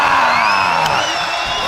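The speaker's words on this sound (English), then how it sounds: "let's just go ahead and enjoy the crowd" Large arena crowd cheering and whooping at the Dota 2 Lima Major 2023 grand finals, a loud continuous roar of voices with no commentary over it.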